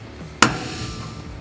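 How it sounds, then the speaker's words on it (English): A single sharp metallic hammer strike on a transfer punch driven down through a bolt hole while mounting an ARB fridge slide, loud and close, ringing briefly over low background hum. "So we're just gonna use a transfer punch, go right down through the hole."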